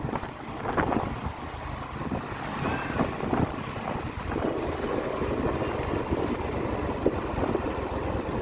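A motorbike engine hums steadily while riding through Kushma Bazar, mixed with heavy wind buffeting and a few small bumps and rattles.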